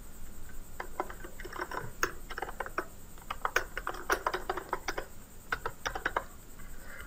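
C++ exception-handling code is typed on a computer keyboard. Rapid, uneven bursts of close key clicks run almost nonstop over a faint steady background hum, with brief pauses between flurries and no speech.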